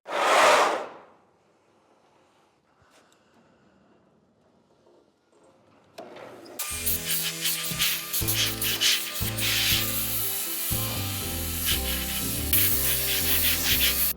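A wooden bench is sanded with 50-grit sandpaper by a loud, steady abrasive power sander running alone for the last half of the clip, after a brief rustle and a quiet pause.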